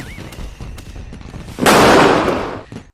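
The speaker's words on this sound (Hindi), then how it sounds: "तार पटाखा तो बड़ा तेज फुटल हो, पूरा कनवा सुन्न कह दी" A single loud firecracker bang bursts out after a quiet moment, its crackling blast decaying over about a second.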